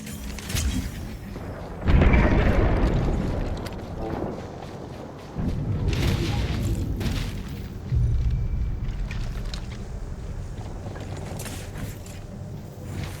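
Grenade explosions boom in a shooter video game, several heavy blasts recurring every few seconds with rumbling tails and mechanical clatter between them.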